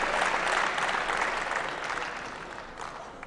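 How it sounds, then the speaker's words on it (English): A crowd claps at a mixed doubles badminton match at the 2014 French International, a dense, steady patter of applause that gradually softens toward the end, with no talk over it. "the crowd again starting to clap, trying to get behind the French in black"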